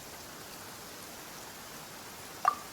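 Rain falling during a squall in a video game, a steady soft hiss of drops on surfaces throughout, with one brief brighter blip near the end and no speech.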